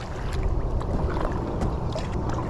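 An inflatable canoe paddled on open water, with a steady, fairly loud wash of water and low wind rumble throughout and faint splashy strokes, no talk.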